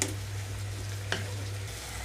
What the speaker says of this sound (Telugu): ఒక రెండు నిమిషాల పాటు మూత పెట్టకుండానే వేయిస్తున్నాను